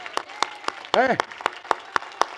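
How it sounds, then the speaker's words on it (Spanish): A church congregation at a Spanish-language service claps in a steady, evenly spaced rhythm, with a single voice briefly calling out midway through. "Si ese aplauso es para el Señor, hermanos, mire."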